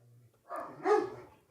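Dogs barking indoors in a few short, muffled yaps, faint and somewhat distant, heard under a quiet room with a little background voice.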